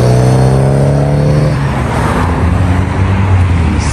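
A Honda Civic drives past at a Las Vegas car meet, its engine note loud and close, dropping in pitch as it passes, over a steady background of traffic.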